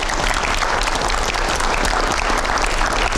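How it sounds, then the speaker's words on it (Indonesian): Loud, dense applause from a large crowd, steady and sustained throughout with no pauses. "Oke, kita kasih tepuk tangan dong."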